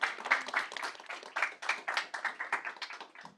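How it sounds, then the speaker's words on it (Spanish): A small audience at a hackathon awards event claps for a team, with distinct, fairly close individual claps in an uneven rhythm rather than a dense roar. "Un gran, aplauso"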